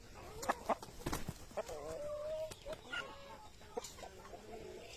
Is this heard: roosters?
yes